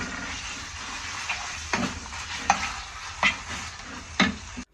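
Chicken fries in hot oil with a constant crackling hiss, broken by several brisk clicks and scrapes as the pieces are turned in the pan.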